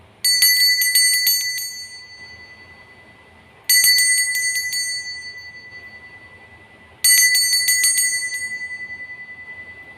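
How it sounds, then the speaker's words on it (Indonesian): A small metal bell rings three times in even, spaced strikes to open a fortune reading, each ring bright and close with a long shimmering decay before the next. "kita akan memulai hasil ramalan dengan ditandai lonceng berbunyi"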